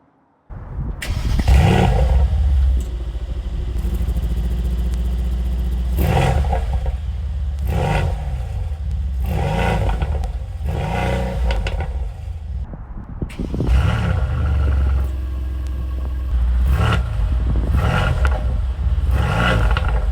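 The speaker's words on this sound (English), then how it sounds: "So this is the engine producing that sound." A 4-liter twin-turbo V8 in a 2020 Mercedes-AMG C 63 S sedan revs repeatedly, loud and close, with a series of sharp throttle blips that rise and fall in a rough rhythm.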